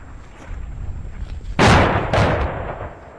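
Russian artillery shelling in Ukraine: two heavy, close explosions land about half a second apart, each a loud broadband blast that trails off into a rumbling decay.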